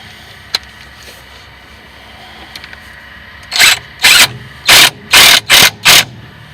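An impact wrench works a brake caliper bolt on a 2008 first-generation Chevy Colorado, firing six loud, close bursts in quick succession over a low steady background hum, with a few small clicks beforehand.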